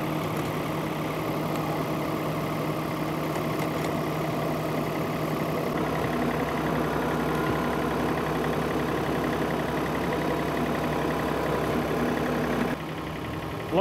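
A loader's engine drones steadily on a steep muddy pond slope, a continuous low rumble with a faint knocking edge that holds level throughout, then dips slightly near the end.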